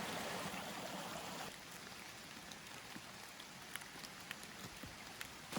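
A backcountry creek in Algonquin near the Oxtongue River flows with a soft continuous rushing hiss, fuller in the first moments and then quieter and steadier, with a few faint ticks and clicks nearby.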